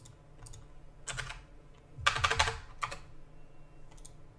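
Computer keyboard keys are pressed for copy and paste shortcuts, heard as sparse clusters of crisp, close clicks and taps with short pauses between them.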